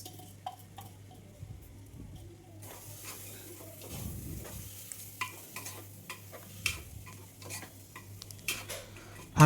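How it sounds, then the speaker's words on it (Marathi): Soaked rice being stirred with spices in a pot, giving soft scraping and light clinks of a spoon against the vessel over a low steady hum, with faint sizzling and scattered ticks. "तांदूळ टाकल्यानंतर ते चांगल्या प्रकारे आपल्याला मिक्स करून घ्यायचं आहे जेणेकरून त्याचे सगळे मसाले त्या भाताला लागतील"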